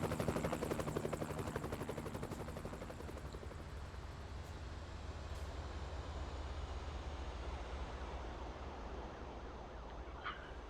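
Helicopter in American Truck Simulator, with rapid rotor chop and a low hum, loud at first and then fading gradually into a steady wash of distant noise, with no talk.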